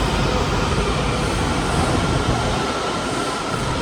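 A DC Metro Orange Line train rumbles and roars loudly and steadily nearby, a continuous broadband rush of wheels and motors that eases slightly near the end.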